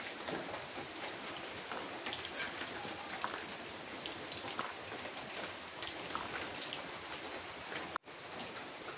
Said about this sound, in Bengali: আজকেও বৃষ্টি হইতেছে